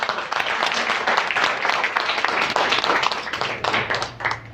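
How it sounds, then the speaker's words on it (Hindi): An audience at a women empowerment project closing ceremony gives sustained applause, a dense, steady wash of many hands clapping at once, loud and continuous across the whole stretch without talk. "आपकी भरपूर तालियों में।"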